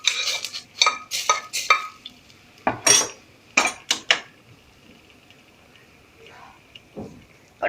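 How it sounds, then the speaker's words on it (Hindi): A spoon stirs masoor dal in a metal pot, making a run of sharp clinks and scrapes that thin out toward the end, close and clear against a quiet background. "और अब हम इसे अच्छी तरीके से मिक्स कर लेंगे।"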